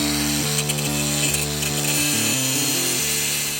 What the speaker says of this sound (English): I'm gonna start grinding the heads off these things